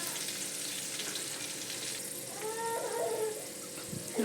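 Curry leaves crackle and sputter in hot oil, a soft steady frying hiss with a louder burst of popping toward the end, alone and fairly quiet.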